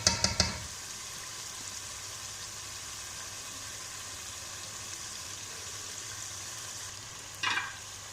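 Chicken fries in a pan with a faint, steady sizzle, opened by a brief burst of utensil clatter and followed near the end by another short scrape.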